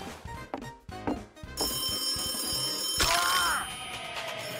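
A telephone rings inside the game Garry's Mod, a bright ringing tone that starts partway in and sustains over scattered game sounds and short thuds.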